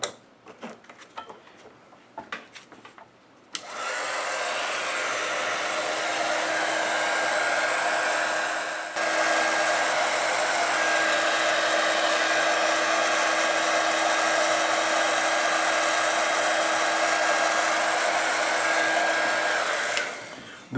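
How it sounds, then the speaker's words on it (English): Heat gun blowing hot air onto heat shrink tubing on a rebuilt TV camera focus coil: after a few faint clicks, a steady loud fan-and-air roar runs for about seventeen seconds, with a short dip midway before resuming. "hit it with the heat gun"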